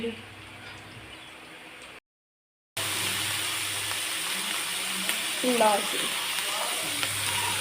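Onions sizzle steadily in a pan of oil after a batch of bitter gourd has been fried, a continuous close hiss with a short silent break and some clinking and stirring near the end.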